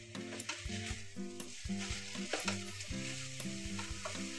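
Potato and cabbage sabzi seasoned with kasuri methi being stirred in a pan, a steady sizzle of frying under repeated scraping and clinking strokes of the spoon against the metal, close and continuous with no talk.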